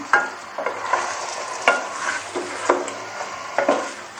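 Chicken daleem being stir-fried on a high flame, with repeated strong spatula scrapes against the pot every half second or so over a continuous frying sizzle, close and fairly loud.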